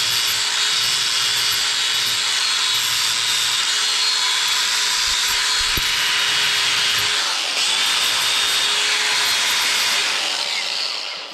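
A battery-operated angle grinder whines steadily and loudly throughout, its pitch dipping briefly under load, with no one talking.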